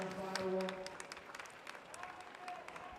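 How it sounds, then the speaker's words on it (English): Applause from spectators at a county qualifier swimming gala as an 11-year-old swimmer finishes her race, with steady clapping in an echoing pool hall and a faint voice at the start. "And let's cheer Lucy in as she comes down this final one"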